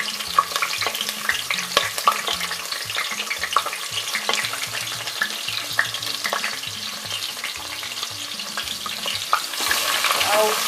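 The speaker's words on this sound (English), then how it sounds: "I'm frying my chopped onion now." Chopped onion sizzles and crackles steadily in hot oil, with occasional stirring scrapes. The frying is close and continuous, with no voices.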